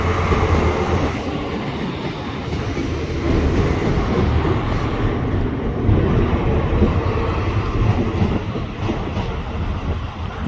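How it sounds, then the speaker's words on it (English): Train running past a level crossing at Coleraine station, a loud rumble with clattering wheels held steady throughout, heard close by from beside the line. "There's a train coming."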